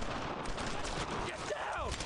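Dense, continuous rifle and machine-gun fire in the World War II video game Brothers in Arms: Road to Hill 30 rattles without pause, loud and close, with rapid overlapping shots.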